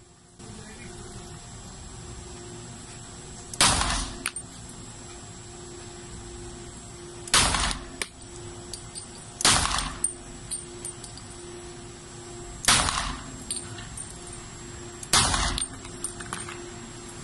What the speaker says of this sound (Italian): una pistola Beretta APX ed è una calibro 9